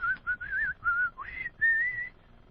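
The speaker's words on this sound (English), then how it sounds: "why don't you whistle us a song? Oof. Do. Happy birthday." A man whistles Happy Birthday in clear, bright phrases, each note distinct with short breaths between, close and alone without talking.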